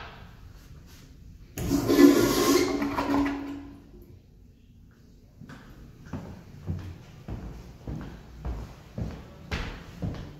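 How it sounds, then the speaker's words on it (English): Toilet in a Fairfield Marriott hotel in Fort Worth, Texas, flushing while its button is held down: a loud rushing surge of water for about two seconds fades out, followed by a series of knocks and thuds from the fixture, with no talking. "See, it's gonna flush when you hold the button down."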